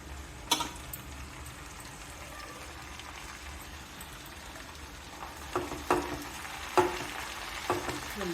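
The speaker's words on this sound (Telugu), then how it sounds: "బాగా ఫ్రై చేసుకోవాలండి." Chopped coriander and mint fry in oil in a pan for chutney, with a low steady sizzle throughout and a few sharp clinks of a spoon stirring and scraping, louder in the second half.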